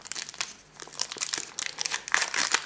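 A trading card booster pack is torn open, close crinkling and crackling of foil wrapper in quick irregular bursts over a few seconds.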